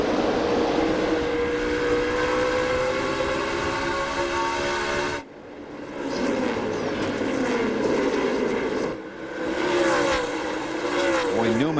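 NASCAR stock cars racing at the 2005 Food City 250, a loud continuous engine roar with passing surges and brief dips, under a commentator's voice.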